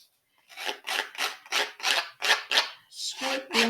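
A hacksaw blade scrapes along the edges of a paper gift tag in about ten rhythmic rasping strokes, close and fairly loud, alone with no talk.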